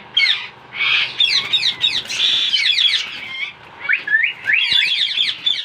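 Two Indian ringneck parrots chirp and screech loudly and close by in a busy, continuous stream of sharp calls with brief pauses, with no talking.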